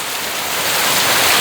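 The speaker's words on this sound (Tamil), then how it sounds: "நல்ல மழை அடிச்சு ஊற்றும்" Heavy rain pours down steadily over a garden of trees and plants, a loud, dense, unbroken hiss that swells slightly toward the end, with no voices.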